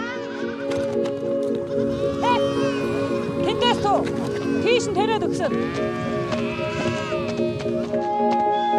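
Sheep and goats in a Mongolian nomad herd driven by horse bleat repeatedly over a steady droning hum, with several animals calling close by and overlapping.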